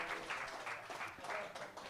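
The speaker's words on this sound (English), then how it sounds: "Round of applause for Paul, everybody." A live comedy club audience claps steadily in a continuous wash of applause, fairly distant and evenly sustained throughout.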